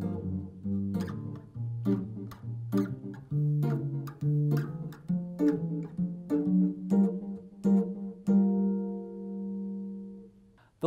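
A walking bass line picked on guitar in low register, steady quarter-note steps moving chord tones and a chromatic passing note back to the root, ending on a sustained ringing note; no talking.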